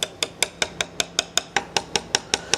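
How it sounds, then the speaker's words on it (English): Thirteen quick, evenly spaced taps ring out from the loose joints of a wooden chair being stripped, each knock crisp with a hollow, slightly tinny ring, close and alone. "See how that little hollow kind of tingy sound? That means these are loose a little bit."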